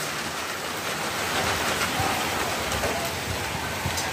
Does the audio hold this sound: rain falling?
yes